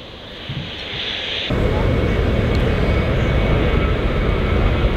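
A Ryanair airliner roars past at an airport runway, its broad engine noise loud and steady, jumping up sharply partway through and holding strong to the end, with someone talking faintly underneath.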